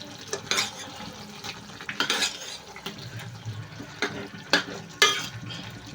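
A spoon scrapes and clinks against a pan while besan curry is stirred, several close metallic taps and scrapes over a soft sizzle.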